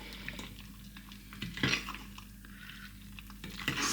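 A utensil scrapes a thick flour mixture off the bottom of a bowl during mixing, making a soft, close clatter and scraping with a louder scrape in the middle.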